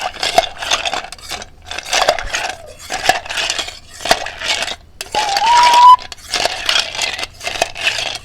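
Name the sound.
spoon stirring a drink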